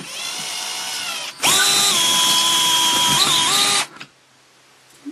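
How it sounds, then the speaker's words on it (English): A DEWALT 8V MAX gyroscopic cordless screwdriver whirs close and loud for about two seconds while backing out a screw, its motor pitch shifting slightly, then stopping abruptly. "Let me use my counterclockwise motion to remove these screws."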